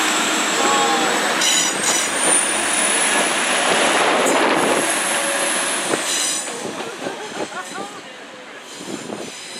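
A Class 175 passenger train to Manchester Airport rumbles past up close with a steady roar and a long high wheel squeal, the noise easing as it moves off.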